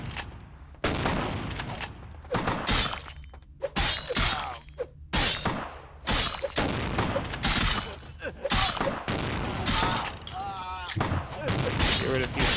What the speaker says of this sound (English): Why am I getting shot at?